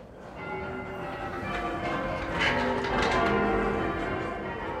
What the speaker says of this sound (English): the bells swing through a full 360 degrees